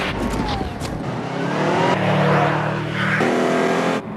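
A turbocharged Subaru WRX engine revs loudly and steadily, rising in pitch, with a rough, powerful tone and no voices.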